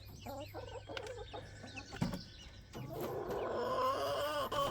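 Hens cluck and squawk steadily as they leave the coop in the morning, young chicks nearby, with a brief thump partway through and a busy, overlapping chorus of clucks that grows fuller toward the end.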